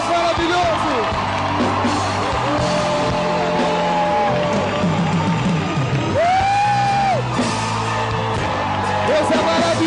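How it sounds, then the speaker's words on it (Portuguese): A church congregation cheers loudly and continuously, with whoops, yells and rising shouts over a dense crowd roar, and voices calling out throughout. "Vamos aplaudir o Senhor."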